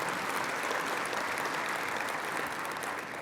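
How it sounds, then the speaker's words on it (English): A large audience of several thousand at a Canadian innovation exhibition event applauds, steady dense clapping that fills the hall at even loudness and fades slightly at the end. "Why don't you give yourself a big hand of applause?"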